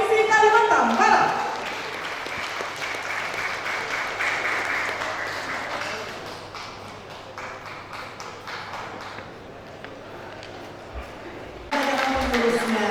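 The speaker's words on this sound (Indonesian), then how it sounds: "Sekali lagi tepuk tangan meriah untuk pengurusan Yayasan Persaudaraan Bugis Melayu Provinsi Kalimantan Barat" Crowd applause for the board of the Bugis Malay Brotherhood Foundation of West Kalimantan, loud at first, then sustained steady clapping through the middle and a fresh louder burst near the end.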